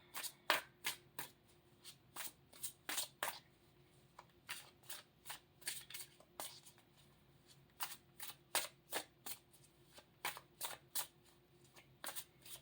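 Tarot cards are riffled and shuffled in quick bursts of crisp flapping, repeated many times in a steady rhythm, close and alone.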